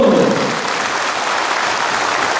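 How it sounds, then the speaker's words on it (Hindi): A large crowd at a political rally applauds loudly, a dense, continuous wash of clapping that stays steady throughout, with no voices standing out. "ये ताली नेता के लिए नहीं है"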